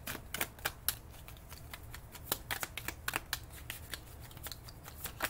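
Tarot cards being shuffled by hand, a quick run of crisp riffling flicks and slaps, close and fairly quiet, with no talking.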